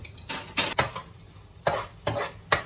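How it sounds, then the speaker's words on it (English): Spice being stirred in a cooking pan while making rasam: six short scraping strokes of a utensil against metal, close and fairly loud, with a faint sizzle between them and no speech. "And then we stir it a little bit"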